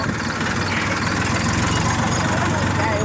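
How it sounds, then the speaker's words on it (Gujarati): Tractor engine idling with a steady low throbbing hum and slight knocking vibration, close by and continuous, with a person talking over it. "ચાલુ ટ્રેક્ટર થઈ ગયું"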